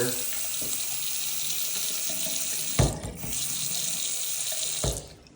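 Water runs steadily from a showerhead over a tub, a constant hiss broken by a couple of brief splashes and shifts in flow.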